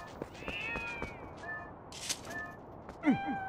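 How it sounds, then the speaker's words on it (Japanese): Several cats meow in Zelda: Twilight Princess HD, with repeated short mews scattered through the scene and a louder, bending meow near the end, over a soft ambient game background. "お、めっちゃ猫いるじゃん。"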